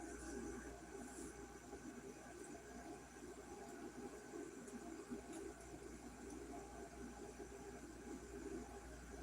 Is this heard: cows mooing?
no